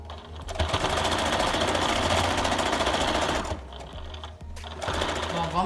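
A sewing machine stitches fabric scraps together for a patchwork table runner, running fast and loud for about three seconds, then slowing to a softer stretch before starting up again, with brief talk near the end.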